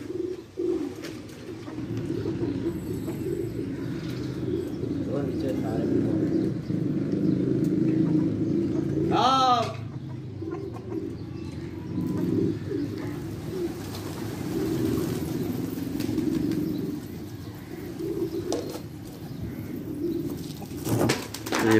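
Pigeons coo in low, continuous rumbling calls over a steady outdoor background. A brief sharper call rises near the middle.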